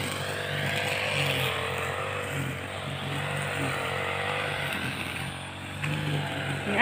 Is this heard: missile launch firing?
no